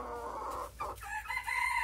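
A young partridge Silkie rooster makes a string of close, loud clucks and short calls with brief gaps between them, over a noisy poultry-pen background.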